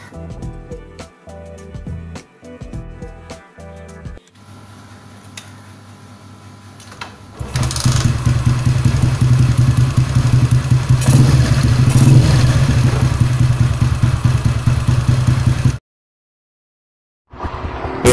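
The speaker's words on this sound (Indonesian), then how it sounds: "sekarang kita nak test pick up motor ni lepas kita pasang coil plug sepada tu dengan plug Super 3 Plus" A Yamaha 135LC motorcycle fitted with a racing coil plug and a Super 3 spark plug is started up and revved hard. Clattering comes first, then a loud sustained engine roar that cuts off abruptly and briefly returns.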